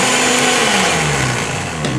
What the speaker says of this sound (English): blend that up a little bit. Put it on high on the fastest speed